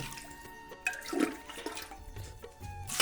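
Water is poured into used cooking pots and utensils, splashing and gushing in uneven bursts close by, with a faint ringing tone in the background.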